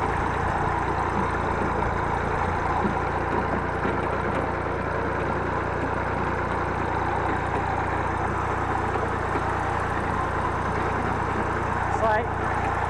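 A small Massey Ferguson tractor pulling a roller across a dry horse paddock gives a constant, close engine drone that runs steadily throughout, with no voices over it.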